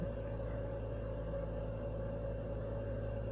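A Renault Megane engine runs after a cylinder head rebuild, producing a steady low rumble and whir at idle, close and unchanging, with no voices.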